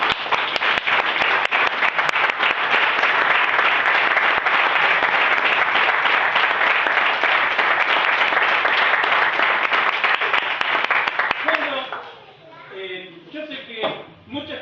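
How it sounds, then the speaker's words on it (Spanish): A church congregation bursts into sustained, loud applause lasting about twelve seconds, then fades as voices begin talking. "Denle un aplauso a la palabra de Dios."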